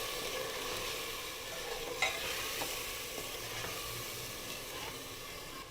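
A packet of premix is stirred in a cooking pot, giving a steady close hiss and sizzle broken by light scraping clicks from the spoon.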